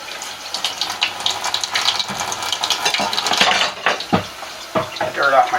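Beets rinsed under running water to wash off dirt, a steady splashing and trickling flow with light clatter of handling, close and continuous throughout.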